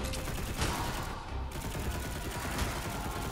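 Rapid gunfire in the video game Darksiders Genesis, dense bursts of shots crackling over layered game effects, steady and fairly faint throughout.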